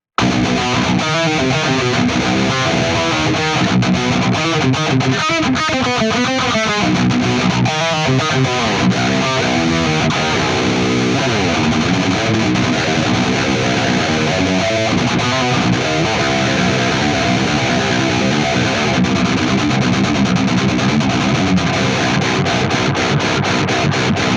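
A heavily distorted Schecter KM7 electric guitar chugs through a steady rhythm part, raw with no EQ, loud and dense, playing alone for the whole stretch.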